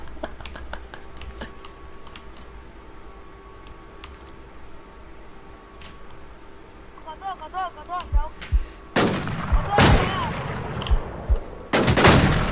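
Gunfire in the online shooter Infestation crackles in scattered single shots and short bursts, growing into loud close volleys near the end, with a faint hum and keyboard clicks beneath.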